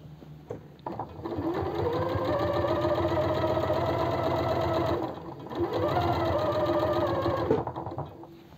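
A sewing machine stitches along the bottom hem of a women's vest in two steady runs with a brief pause between, a close, even mechanical whir with no talking.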